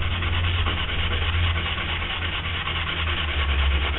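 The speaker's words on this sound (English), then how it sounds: "the more sanding and the more paint you take off" Steady, close scratchy rubbing of sandpaper against acrylic paint, continuous and even with no talking.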